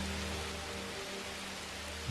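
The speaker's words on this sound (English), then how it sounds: "the rain starts to subside" Rain falls in a soft, even wash of patter, easing off as it begins to subside, with no other sound over it.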